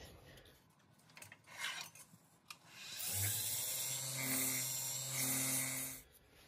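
Sandpaper rubbing the inside of a spinning figured maple bud vase on a lathe, a rasping scrape that builds steady and loud over the motor's hum, with tonal whine bands and scattered light knocks beforehand.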